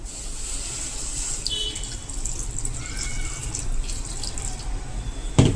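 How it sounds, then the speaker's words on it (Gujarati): Water pours steadily into a kadai on a gas stove, a continuous splashing rush that stays even throughout, ending with a brief louder knock. "કઢાઈમાં પાણી નાખીશું."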